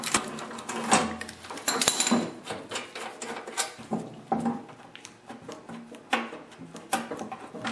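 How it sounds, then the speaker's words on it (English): A ratchet with a 1/2-inch socket works the cover bolts off a Craftsman snowblower, giving close, repeated rapid clicking bursts broken by short pauses and light metallic knocks. "just use a 1/2-inch socket and a ratchet to do this"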